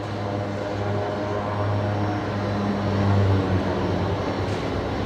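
Rescue 533, an inbound rescue aircraft at Brisbane Airport, drones steadily with a low propeller hum that swells slightly toward the middle, heard alone without talk.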